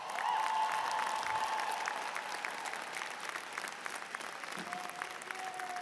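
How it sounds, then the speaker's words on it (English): Graduation audience at a commencement address applauding, a steady, dense wash of clapping that holds at even volume throughout, with faint voices and whistles scattered in the crowd. "Well, hold that applause"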